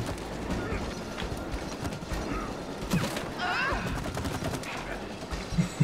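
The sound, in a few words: shooting at a chain in the video game It Takes Two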